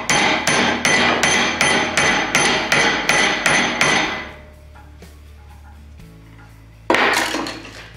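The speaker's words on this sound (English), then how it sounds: "the hammer gets it to move a little bit" Hammer blows strike an adjustable bending fork and jig, about ten sharp metallic hits in a steady rhythm over four seconds, followed by a quiet gap and one final ringing strike.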